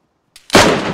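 A single loud gunshot in DayZ PvP combat at Zeleno, a sharp close crack after a brief faint pop, then a rough echoing tail that fills the rest of the second.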